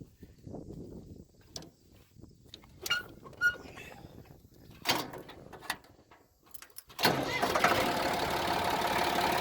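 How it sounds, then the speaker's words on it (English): Tractor engine starting out in the field after a few scattered knocks and clicks, the cranking catching at the end and settling into a loud, steady running roar. "So let's get up on the tractor and get her started."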